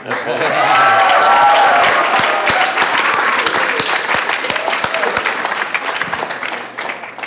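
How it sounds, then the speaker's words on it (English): A large audience claps for a jazz ensemble in a master class setting, dense sustained applause that is loud and close, with a few cheers mixed in at first and the clapping gradually thinning out. "You can clap for them."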